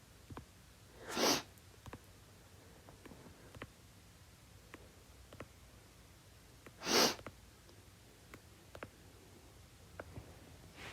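Sniffling from allergies: two distinct wet, breathy sniffs several seconds apart, fairly close, over a very quiet room with faint scattered clicks.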